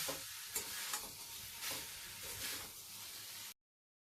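Soybean chunks and boiled potato for a vegetarian curry fry in a pan while being stirred, with a soft continuous sizzle and a few scraping pulses of the spoon, fairly quiet, no voices.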